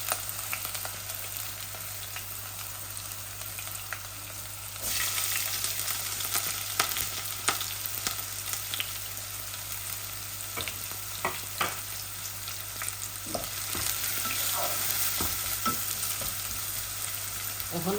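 Garlic, and then onions, fry in hot oil with a steady, fairly quiet sizzle and occasional stirring scrapes, growing fuller and brighter after about five seconds.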